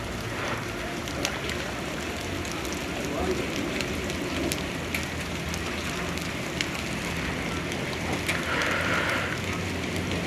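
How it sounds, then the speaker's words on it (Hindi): Hail and rain falling steadily on a road during an electric scooter ride on a Jhelum to Islamabad trip, a dense continuous patter with wind rush and faint talking underneath. "ओले पड़ना शुरू हो गए।"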